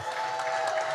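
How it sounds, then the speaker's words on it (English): A brief burst of steady applause, a crowd clapping continuously at moderate volume. "a big round of applause for our band"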